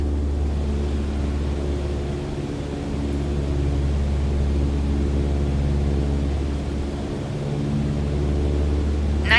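A propeller aircraft engine in Microsoft Flight Simulator 2020, throttled back to 2,300 RPM for cruise, produces a steady low drone with a strong rumbling hum that holds evenly throughout, without speech.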